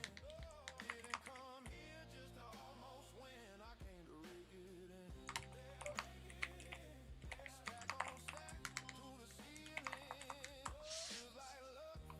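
Rapid typing on a new computer keyboard, crisp clicking keystrokes in quick irregular bursts, close and quiet, over a faint steady background tone.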